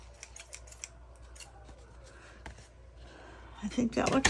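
Scissors snip off overhanging paper around a journal card, giving a series of small crisp cuts close to the microphone, followed by a person speaking at the end.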